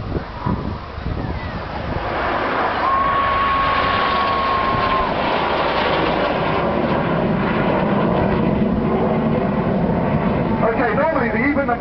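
RAF Red Arrows jets fly a display manoeuvre at the Bournemouth Air Festival, 2011: a loud, steady broadband roar that swells early and then holds, with a commentator talking over it throughout.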